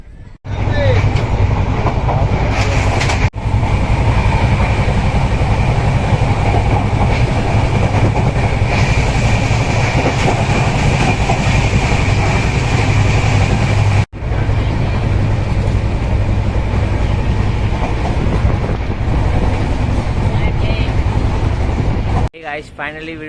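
A train rumbles steadily along the rails, loud and continuous with a rhythmic clatter from inside the carriage, and voices murmur in the background.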